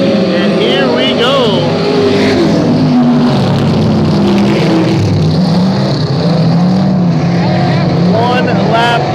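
Vintage race cars roar around the dirt speedway at Northwest Florida Speedway in Baker, Florida, a dense, continuous engine drone with rising and falling revs from several cars passing, loud throughout with a commentator talking over it.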